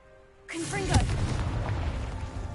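A Confringo fire spell bursts in the Hogwarts Legacy video game: a sudden loud blast follows a quiet moment, then a rumbling, crackling tail, with spell whooshes sweeping across it.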